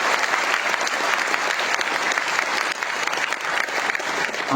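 Dense audience applause at an Indian welcome and felicitation ceremony, a steady loud wash of many hands clapping that fills the whole stretch without a break.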